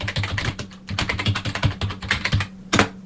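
Typing on a computer keyboard while entering input into a Pilot program on a CP/M machine: a rapid, close run of crisp key clicks with brief pauses, ending in a louder keystroke burst over a steady low hum.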